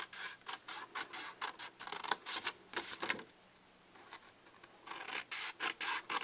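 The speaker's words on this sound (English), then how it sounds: "I'm going to trim up along every one of my score lines to that 2 1/2 inch score line." Card stock is trimmed along score lines with a paper trimmer, giving a quick series of close, dry rasping strokes, then a short pause, then another rapid run of strokes.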